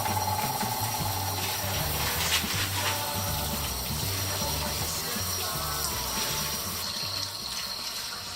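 Cold tap water runs steadily into a sink as shrimps and small crabs are rinsed, a continuous close splashing gush with no pauses throughout.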